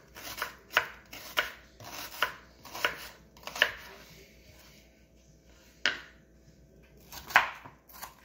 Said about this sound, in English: Now I'm going to cut up the onion.